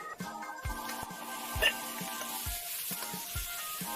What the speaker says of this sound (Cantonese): 爆香料頭落燒肉